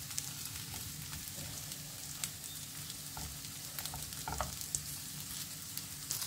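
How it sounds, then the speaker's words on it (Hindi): Peanut snack balls sizzle steadily in an appe pan, a continuous bubbling crackle with scattered sharper pops, close and moderately loud with no talking. "तो यहाँ पर इसे और अच्छे से सेक लेते हैं और जो हमारे अपम पैन वाले बॉल थे वो पूरी तरीके से सिक गए हैं"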